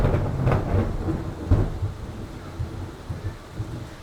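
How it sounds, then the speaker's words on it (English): Thunderstorm with deep rumbling thunder rolls around half a second and a second and a half in, over steady rain hiss and low wind, moderately loud throughout without any voices. "we'll do it on a rainy day when it's storming and thundering and it's dark"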